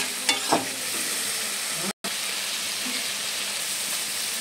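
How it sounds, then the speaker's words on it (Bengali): Spice paste of ground masala with ginger paste and chili powder sizzling and frying in a pan for mutton curry, stirred with a couple of scraping knocks early on, a steady hiss throughout with a brief cutout midway. "এর মধ্যে এবারে গুঁড়ো লঙ্কা দিয়ে এবার মশলাটাকে একটু ভালো করে আমি কষিয়ে নেব"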